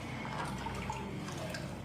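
Water is poured into a classroom model of the digestive system, giving a steady, continuous splashing trickle that holds at an even level for the whole short stretch, with no talk over it.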